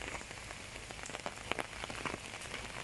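Steady rain pours down at Wat Khao Tabaek temple, a dense even patter on surfaces with scattered louder drops splashing nearby, heard alone without voices.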